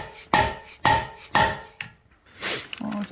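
A lump hammer taps an axle bearing into place on a vehicle axle, three evenly spaced sharp metallic knocks up close, then a softer hit and some quieter shuffling and handling noise.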